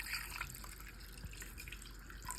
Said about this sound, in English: you're gonna pour in 1 cup of chicken broth